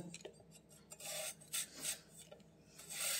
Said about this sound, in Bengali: এখন দেখো আলু কাটছি